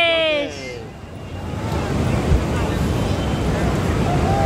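Ocean surf rolls steadily on Puri beach, a broad continuous wash of waves with wind noise against the microphone, after a brief voice at the start.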